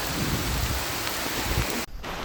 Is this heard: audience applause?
no